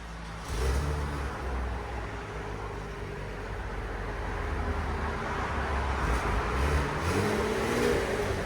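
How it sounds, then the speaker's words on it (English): A stock-exhaust 3.6L V6 on a 2017 Chevy Camaro RS rumbles in a low, steady drone that swells gradually as the revs climb, heard up close without any voices. "2017 Chevy Camaro V6. That's what it sounds like before."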